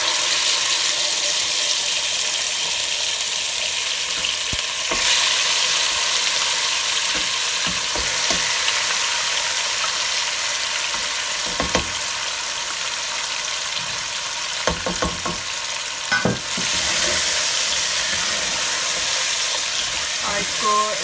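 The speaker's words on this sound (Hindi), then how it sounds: "चिकन को हम 1-2 मिनट फ्राई करेंगे" Marinated chicken frying in a pan with onions and cumin, a steady broadband sizzle throughout with occasional stirring clatters and scrapes, no talk.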